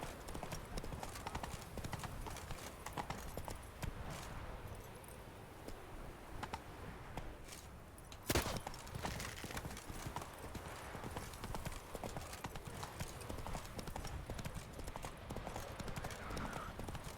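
Roach the horse gallops in The Witcher 3 video game, a steady clip-clop of hooves running continuously under busy game sounds, with a brief sharp burst midway and faint speech now and then.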